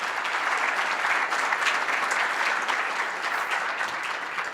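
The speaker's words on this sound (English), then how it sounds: "let's give our panel and all our panelists applause." Steady, full applause from a morning panel audience at a CBER fall outlook event, sustained and even throughout with no voices over it.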